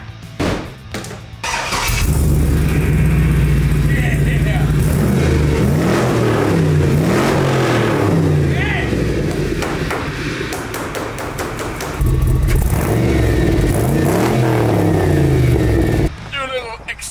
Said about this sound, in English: Let's see what the old Escalade sounds like now!